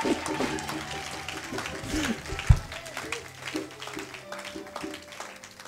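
A church congregation claps and cheers in a broad, sustained wash of applause during a French-language sermon, while a preacher keeps speaking over it.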